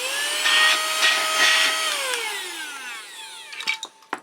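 A small Chinese brushless cordless vacuum cleaner whines loudly, then its pitch sweeps downward as the motor spins down, ending with a few clicks and knocks.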